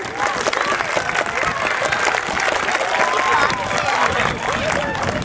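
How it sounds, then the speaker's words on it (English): Standing audience applauding a school district building committee, thick continuous clapping with scattered cheers and crowd chatter throughout, loud and full. "if you could stand up and we'll give them a round of applause"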